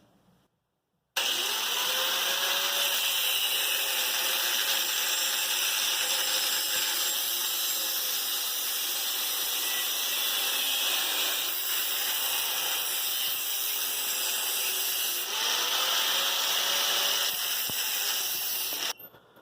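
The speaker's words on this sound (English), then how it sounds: "So grinding away at these bars here." An angle grinder cuts through the steel bars of a swing bike's seat post, giving a loud, steady, high-pitched hiss and whine that runs almost unbroken for about seventeen seconds, with a few shifts in pitch as the disc bites into the metal.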